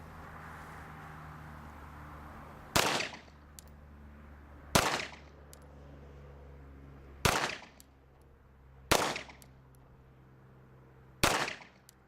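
Five sharp handgun shots ring out one at a time on an outdoor range during a CCW qualification, loud and close, with steady gaps of about two seconds and a quiet background between them.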